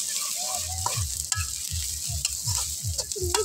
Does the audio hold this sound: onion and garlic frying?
yes